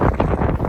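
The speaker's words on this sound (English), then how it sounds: "Look at the way the wind is blowing through here." Strong wind gusts from a passing gust front buffet the microphone in a loud, low, rumbling roar that surges and dips over a short stretch, with no voices.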